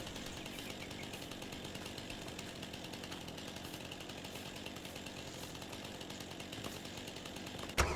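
A forestry harvester in Farming Simulator 22 cutting a spruce, a steady chainsaw-like mechanical buzz that holds at an even, moderate level throughout with a brief thump at the end.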